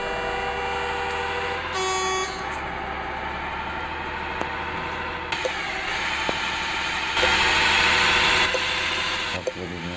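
A Volvo truck in the video game Truck Simulator drives with a steady loud engine drone and road rumble, broken by a short horn-like toot and a few clicks.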